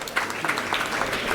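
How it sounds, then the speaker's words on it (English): Audience applause at a chess tournament prize distribution, a brief burst of dense clapping that holds steady for over a second. "Give them a big round of applause."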